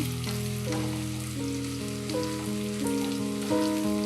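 Onions fry in hot oil until golden brown, a continuous bright sizzle heard close up while stepped background music plays over it.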